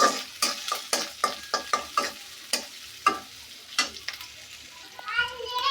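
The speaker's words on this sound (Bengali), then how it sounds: "এটা একটু ভাজা ভাজা হোক।" Green chilies fry in a pan in a village kitchen, stirred with a spoon: a close series of sharp, rhythmic scraping strokes over a faint oily sizzle, with a brief higher chirping noise near the end.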